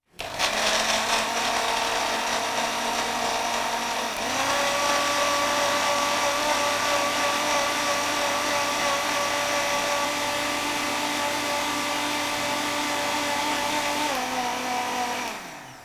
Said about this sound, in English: then you can turn on the blender now. Unfortunately, it's loud.